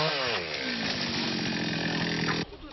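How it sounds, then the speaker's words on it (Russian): A chainsaw cuts storm-damaged trees after a tornado in Luhansk, its engine whining loud and steady close by before cutting out abruptly near the end. "Деревья пилят сразу в трех районах Луганска."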